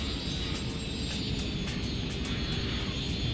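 Steady droning roar of an airplane engine during takeoff at an airport, a constant loud hum with a faint higher whine, heard at a distance with no talking.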